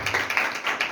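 Congregation clapping hands in rhythm during a church worship service, a steady run of close claps lasting about a second.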